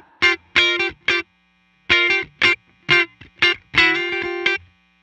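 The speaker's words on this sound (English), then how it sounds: "So I'm running into a Fender twin reverb in the vibrato channel." An electric guitar played through a Fender Twin Reverb amp on its vibrato channel rings out in short, choppy staccato chords and notes separated by brief silences, clear and alone.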